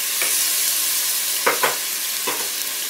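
Rice balls frying in a little oil in a pan give off a dense, loud hiss, broken by a few brief scraping stirs close up.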